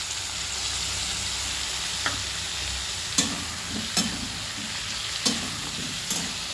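Potatoes sautéed in a pan with a ghee paste of ginger, cumin, coriander, dried chili powder and turmeric for a potol-aloo dalna, giving a steady sizzle with several sharp scraping strokes of stirring, close and unaccompanied.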